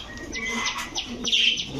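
Giribaz racing pigeons, two pairs just released, give soft coos and chirps close by, with brief wing flutters, in a short burst without talk.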